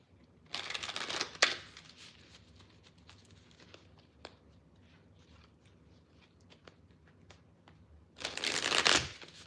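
A tarot card deck shuffled up close in two brisk riffling bursts, one at the start and one at the end, with quiet handling clicks and taps between them.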